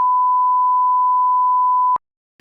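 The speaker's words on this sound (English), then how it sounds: "Did you hear that little ding sound?" Apple headphones give a power-on tone: a single clean, steady beep held for about two seconds, close and clear, followed by a brief faint rustle.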